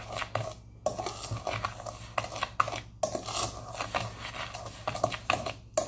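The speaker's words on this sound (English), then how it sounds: "We're gonna stir all these things together really well" Cinnamon, salt and dry ingredients stirred together in a bowl: steady scraping and clinking of a utensil against the bowl in quick irregular strokes, close up, with no talk.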